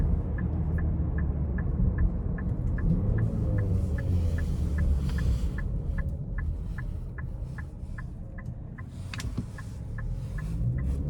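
A 2025 Nissan Murano Platinum AWD in sport mode accelerates onto an interstate, heard from inside the cabin as a steady engine drone and road rumble, with a regular faint ticking through the run.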